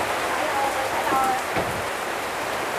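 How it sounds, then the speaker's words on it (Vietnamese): Heavy rain blown in by wind patters steadily on surfaces around a poor riverside settlement of Vietnamese in Cambodia, a constant moderate hiss with faint voices in the background. "nó mưa lớn rồi nó tạt cho trơn"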